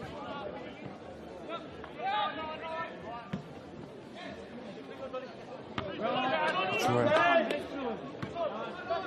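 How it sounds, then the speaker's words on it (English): A bustling crowd at an Adelaide Croatia Raiders versus Modbury Jets football match, a steady babble of many voices with murmurs and shouts swelling louder toward the end, close chatter throughout. "Crowd down here is starting to build nicely."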